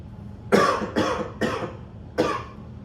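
Four harsh coughs in an uneven rhythm, close and fairly loud, with short pauses between them.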